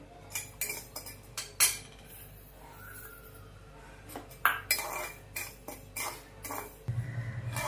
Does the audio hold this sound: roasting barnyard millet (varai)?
yes